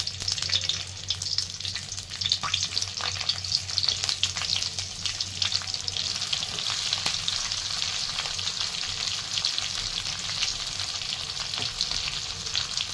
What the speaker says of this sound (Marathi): या भेंड्या तेलामध्ये टाकून घेत आणि छान तेलामध्येच परतून घ्यायच्या आहेत आपल्याला